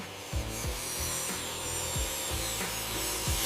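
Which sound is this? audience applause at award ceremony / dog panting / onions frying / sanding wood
sanding wood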